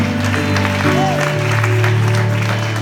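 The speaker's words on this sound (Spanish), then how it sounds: "¿Cuántos le dan un aplauso al Señor de la cruz" A church congregation claps for the Lord during a Spanish-language Sunday service, a brief dense burst of applause over a loud, droning background hum.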